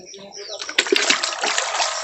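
Water pours and splashes into a drum outdoors, a sustained sloshing rush with a few sharper spatters, close by, with voices talking underneath.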